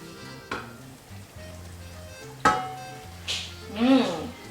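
Meat sizzling in a frying pan during meal prep, a steady close hiss broken by a few sharp clanks and scrapes as the pan is handled and the meat is stirred.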